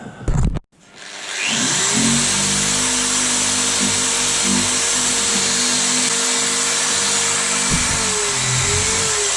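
A power buffer spinning up and running steadily against an old chisel during restoration, a loud close whine with a low motor hum after a short clunk at the start.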